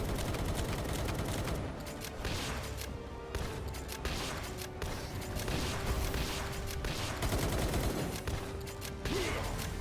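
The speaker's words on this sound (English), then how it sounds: "Loving this shotgun." Shotgun blasts in Palworld, fired again and again in loud, dense bursts over a busy, continuous backdrop of game noise in a desert bounty fight.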